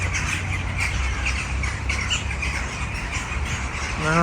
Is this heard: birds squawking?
yes